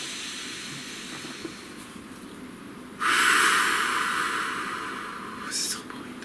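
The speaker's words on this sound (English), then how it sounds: "Please take a nice deep breath." A deep breath is drawn in a quiet room: a long, soft hiss of air that slowly fades, then a shorter second breath near the end. A low, steady hum sits underneath, and no one speaks.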